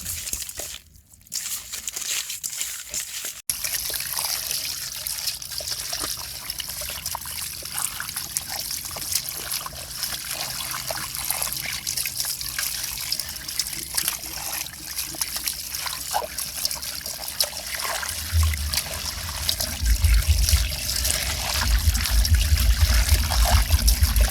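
Water trickling and splashing in a bowl while snakehead fish is washed for a sour Isan-style soup, a steady close running stream with light crinkling, growing louder and heavier toward the end.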